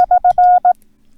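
Morse code slash character sent as a single steady pitched tone: five beeps in a dah-dit-dit-dah-dit pattern, with the long fourth tone standing out, loud and clean against silence.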